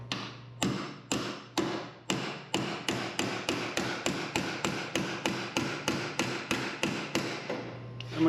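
Steady, hard hammer blows driving a hinge pin on a 1970 Chevrolet Chevelle, about twenty-five evenly spaced strikes in a row, loud and close with a sharp ringing attack.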